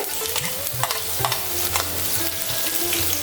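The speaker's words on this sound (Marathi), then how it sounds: "थोडीशी हिरवी मिरची घालते" Steady sizzling and crackling of green chili frying in hot oil with mustard seeds and asafoetida for a tempering, with stirring clinks and scrapes; no voices.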